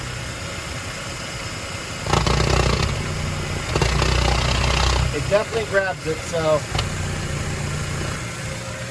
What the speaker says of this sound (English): When you hear the RPM change, that's a good sign too.